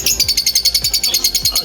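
Red parrots give rapid, shrill, evenly repeated calls, about a dozen in quick rhythm, loud and close.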